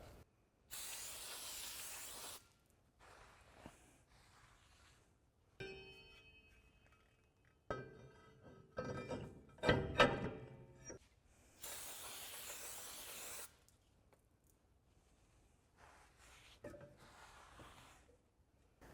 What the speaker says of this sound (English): take some brake cleaner and a clean microfiber towel to spray it down